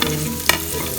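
Garlic, onion and ginger sautéing in a pan for Kapampangan papaitan, a steady close sizzle with one sharp clatter of stirring midway.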